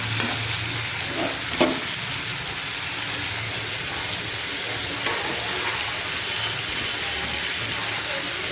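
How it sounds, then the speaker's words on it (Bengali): Chicken pieces with salt and a little turmeric are stirred in hot oil for masala chicken, giving a steady close sizzle and a few scraping utensil knocks. "তেলের ওপর একটু নাড়াচাড়া করে নিচ্ছি"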